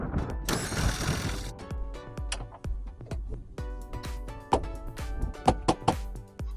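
A 3/8-inch socket ratchet works a bolt on a Club Car golf cart, giving rapid close clicking pawl bursts and sharp metallic ticks and knocks against the cart frame, with no talk.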